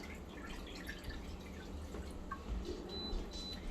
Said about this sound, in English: I just have my big stock pot here in the sink, and luckily my strainer fits it perfectly, so it's catching any drips too.